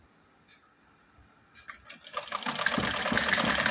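Sewing machine stitching along a pen-marked line, starting after a few soft clicks and building into a fast, continuous close-up whir that grows louder toward the end.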